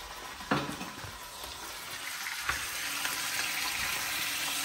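Food sautéing in a pan gives a steady sizzle with occasional stirring scrapes and clinks, close and moderately loud, with no talking.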